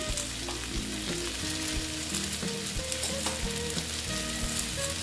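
Bata fish coated with salt and turmeric fries in a pan and is turned over, making a loud, continuous sizzle with occasional stirring scrapes. Steady tonal sounds run underneath, and no one speaks.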